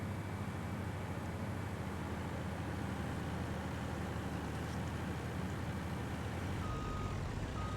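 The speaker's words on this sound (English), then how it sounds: "I got to turn that traffic off." Steady traffic roar with trucks rumbling past and a faint repeated reversing beep, continuous and even in level throughout, with no talking.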